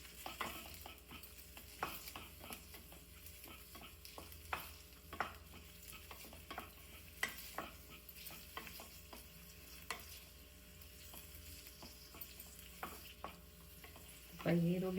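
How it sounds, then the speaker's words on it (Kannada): Onions frying in hot oil for paneer gravy, a continuous low sizzle broken by frequent scraping spatula strokes against the pan, close up, with a louder clatter at the very end. "ಈರುಳ್ಳಿ ಎಣ್ಣೆ ಕಾದ್ಮೇಲೆ ಈರುಳ್ಳಿ ಹಾಕಬೇಕು."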